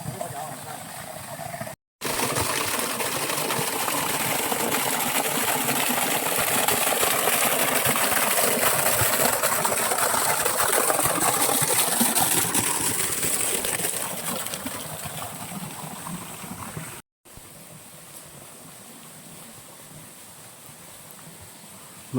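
Waterfall at Tham Soda temple cave in Nong Phok, Roi Et: a loud, steady broadband rush of falling water fills the scene, with a brief cut and a quieter stretch near the end.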